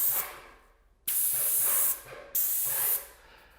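A paint sprayer hisses in two sharp bursts, each lasting under a second, separated by brief pauses, close and fairly loud.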